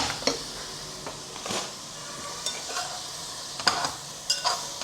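Vegetables boiling in a pot for veg pulao are stirred with a spoon, giving intermittent scrapes and sharp metallic clinks against the pot over a low, soft bubbling sizzle.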